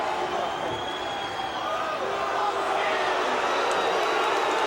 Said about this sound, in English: Some of these people, there's a lot of people clapping.